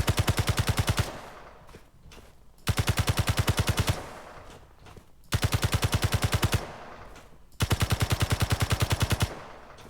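Automatic gunfire in the Space Engineers video game striking dirt, four loud rapid bursts of about a second each, separated by short gaps of fading rumble.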